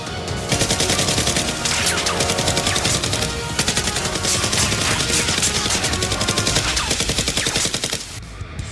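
Nerf guns firing darts in a rapid, continuous clatter of sharp clicks and pops, dense and sustained for several seconds before cutting off near the end.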